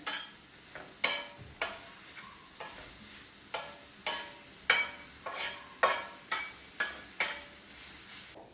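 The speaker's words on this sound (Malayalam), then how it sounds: "ബീട്രൂട്ടിൻ്റെ നല്ലോണം മുരിഞ്ഞ് വരുന്ന പോലെ വറുത്തെടുക്കണം" Beetroot fries in oil while being stirred, with a light sizzle under a dozen or so regular scraping and clacking strokes of a spoon against the pan.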